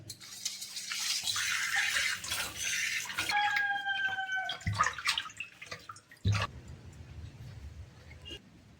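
Prawns being washed by hand in water with rock salt, a wet sloshing and rubbing for the first few seconds, then scattered drips, light clinks and a couple of sharper knocks as the washing winds down.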